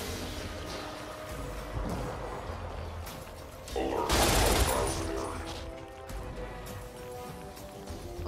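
Gunfire from a weapon in the game Fallout: New Vegas, a loud burst of shots and impact noise in the middle of a busy, continuous game soundscape, with a voice talking over it.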